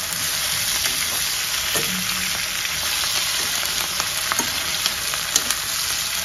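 Bitter gourd pieces frying in oil in a pan, a continuous close hiss of sizzling with scattered small pops and soft stirring scrapes, with no talking.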